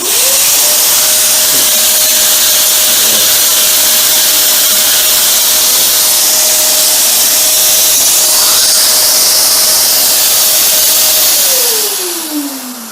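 An LG vacuum cleaner runs steadily through a suction test with a leaky hose connection, giving a loud, continuous whine and airy roar at one pitch that holds for about eleven seconds, then drops in pitch as the motor winds down.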